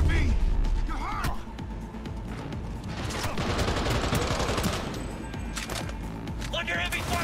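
Gunfire in the Cyberpunk 2077 video game comes in rapid bursts and scattered single shots during a chaotic firefight, mixed with crashes and voices calling out over the action.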